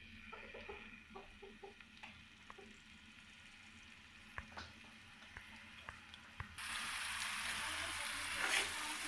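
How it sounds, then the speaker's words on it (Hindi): Ginger garlic paste fries quietly in a pan, browning for moong masoor dal, with soft clicks of stirring, growing into a louder, steady hiss toward the end. "अदरक लहसुन हमारा ब्राउन होने जा रहा है।"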